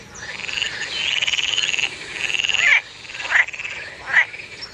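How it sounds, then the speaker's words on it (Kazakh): A frog croaking nearby in a loud rattling trill, then a few shorter separate croaks over a faint background. "бақа. Бақа"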